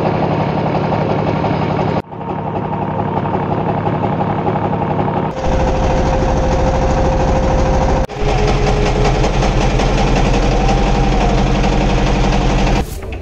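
A trawler boat's engine runs loud and close on a lake trip, a steady droning chug with continuous rumbling vibration and a few abrupt shifts in level; no talking.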